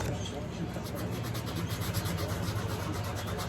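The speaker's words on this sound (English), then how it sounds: "You have to sand it." Steady rubbing of sandpaper across a hard painted trophy ball to dull its glossy surface, a close, continuous scratchy friction with a low hum in the background.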